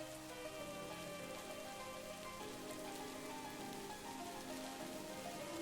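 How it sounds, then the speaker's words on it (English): Steady rain falling on leaves, a dense, even patter that holds at a constant level throughout with no voices. "The sound of the rain falling on the leaves is so soothing."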